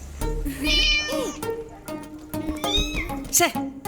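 Several cats meow in a home, with multiple rising and falling calls close by, mixed in with people talking throughout.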